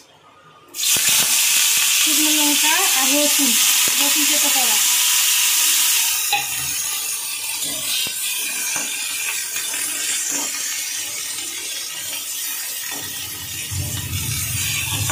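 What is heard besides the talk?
onion, dried chilli and garlic frying in hot oil in a wok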